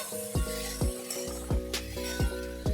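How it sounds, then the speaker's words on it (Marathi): Potato bhaji stirred in a pan, a low sizzle broken by about six evenly spaced metallic clinks of a spoon against the pan, close and alone. "हे व्यवस्थित मिक्स करून घ्यायचं."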